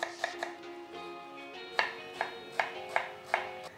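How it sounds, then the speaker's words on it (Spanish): A knife dices a peeled onion into small cubes on a cutting board for a Peruvian chicken and bean stew: about seven sharp, close chops in an uneven rhythm over a faint steady hum, with no talking. "Vamos a cortar en corte cuadradito o brunoa."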